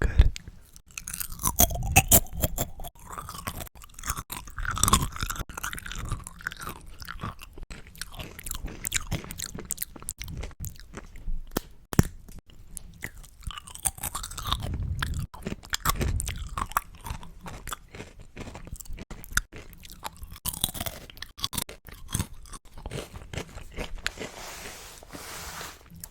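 Crunchy Lay's potato chips being bitten and chewed close to the mic, a steady run of crisp crunches and mouth sounds with short pauses, no talking.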